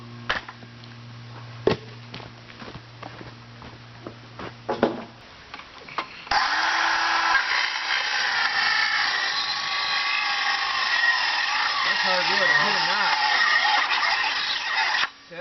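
A Black & Decker power tool cuts hard through wood while installing a rain water collector, starting with a loud, steady high whine that holds for several seconds after scattered knocks and handling sounds.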